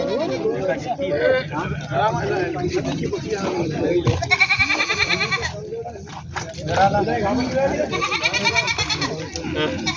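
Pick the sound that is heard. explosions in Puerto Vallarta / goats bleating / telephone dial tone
goats bleating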